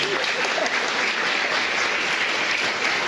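An audience at a talk on temperament applauds four volunteers, a sustained, even burst of many hands clapping that stays at a steady level throughout.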